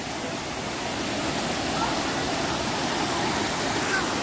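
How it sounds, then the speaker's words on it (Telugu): The Gandahati waterfall in Gajapati, Odisha gives a steady, unbroken rushing roar of falling water that stays loud and even throughout. "త్రూఅవుట్ ఇయర్ మీకు ఇక్కడ వాటర్ అనేది ఫ్లో అవుతూనే ఉంటుంది"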